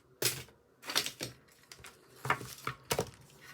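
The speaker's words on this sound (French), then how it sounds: "on prend les ciseaux pour faire les angles" Scissors snip through cardboard at the corners of a handmade paper album: a handful of crisp, close cuts in irregular bursts with short pauses between.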